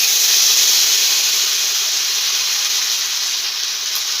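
A ground paste of cumin, ginger, and dried and fresh green chillies sizzling hard in hot oil, producing a loud, close, continuous hiss that eases slightly over the few seconds, with no talking.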